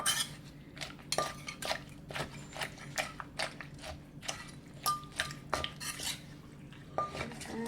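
Som tam ingredients being mixed in a mortar, with chilies, tomato, lime and fermented fish sauce: a steady run of sharp clinks and knocks as a utensil scrapes and taps against the mortar, close and fairly loud, with no talking.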